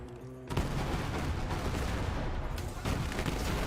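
Grenade blasts in the shooter game Borderlands 3, a dense continuous wall of booming explosions and gunfire that starts abruptly and stays loud throughout, with a brief dip near the end.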